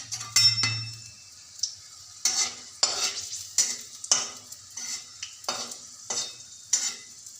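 Onion fries in hot oil as a utensil stirs it, producing repeated bursts of sizzle and scraping clinks in an irregular rhythm, with quiet gaps between strokes.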